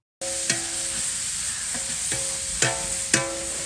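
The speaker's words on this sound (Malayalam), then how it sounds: "കുറച്ച് സബോള ഇട്ട് കൊടുക്കാം ഇല്ലെങ്കിൽ നല്ലോണം ഫ്രൈ ആവാം" Onions fry with cardamom, cinnamon and cloves for Tamil Nadu style biryani, a loud constant sizzle broken by a few sharp metallic scrapes and clacks of a stirring spoon against the pan.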